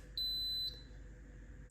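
Instant Pot electric pressure cooker giving a single clear electronic beep as the five-minute pressure timer is set, a steady tone lasting about half a second over quiet kitchen background.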